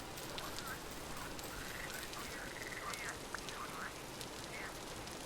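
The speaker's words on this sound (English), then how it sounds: "Hey, frogs! Frog noises." Frogs croaking in the Vintage Story video game, a series of short repeated croaks at moderate distance over a steady hiss like rain, with no talk.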